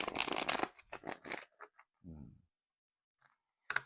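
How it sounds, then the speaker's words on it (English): Tarot cards being shuffled: quick bursts of papery riffling and shuffling, close and crisp, with a few soft taps and pauses between, then one more brief shuffle at the end. "I'm now going to be shuffling my cards."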